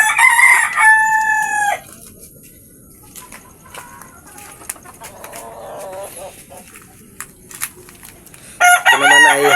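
A Sweater gamefowl rooster crows loudly and close by at the start, then again at the end, with quieter clucking and farmyard sounds in between.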